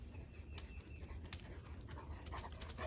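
A dog pants softly and steadily at close range, quick breaths running continuously through a faint, quiet background.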